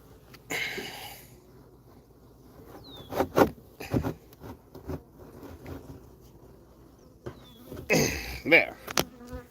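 Bees buzz around an open beehive as its cover is put back on, a steady hum broken by close passes of individual insects and bursts of handling noise and bumps.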